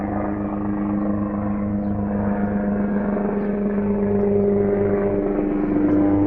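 Airplanes flying overhead give off a steady, continuous engine drone with a low hum that swells slightly toward the end, and no voices are heard.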